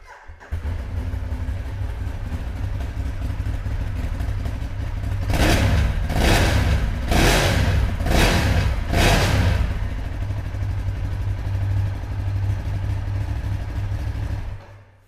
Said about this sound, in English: The Leo-Vinci pipes on this bike sound absolutely brilliant.